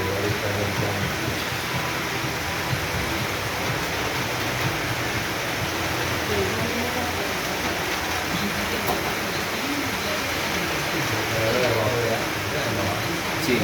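A heavy rainstorm downpour in Medellín pours as a steady, dense wash of noise throughout, with voices murmuring faintly beneath it.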